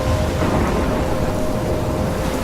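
Heavy rain pours with a deep rolling rumble of thunder during a storm in the video game Life Is Strange, a continuous loud wash with no voices.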